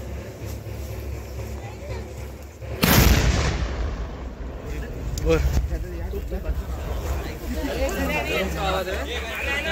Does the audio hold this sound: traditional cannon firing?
yes